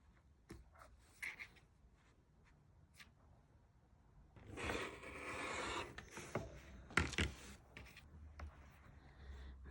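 Felt being cut down to size for a needle book, with a few faint scissor snips early on, then a denser rasping stretch of cutting and several sharp crisp snips close by in an otherwise quiet room.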